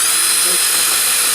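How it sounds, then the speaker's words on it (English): A power drill driving a screw into wood gives a steady high-pitched whine the whole time, loud and continuous, with no pauses or breaks. "drill another pilot hole, and if we can get the screw in there"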